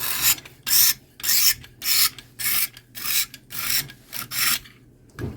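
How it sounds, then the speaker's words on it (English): A sharpening steel on a Cold Steel benchtop sharpener is drawn over a blade in about nine regular rasping strokes, each a loud gritty scrape separated by short pauses, close up. "So that's just a very gentle deburring on that steel."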